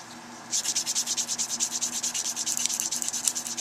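Hand sanding with 320 grit sandpaper, likely on a saxophone mouthpiece, a rhythmic back-and-forth scratching of about twenty quick strokes, close and fairly loud, with no talking.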